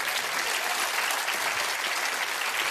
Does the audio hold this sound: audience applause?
yes